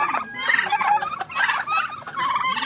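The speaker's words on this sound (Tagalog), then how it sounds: "ito rin yung pabo natin" Turkeys on a farm gobble repeatedly nearby in bursts of rapid warbling calls, fairly clear with no talking.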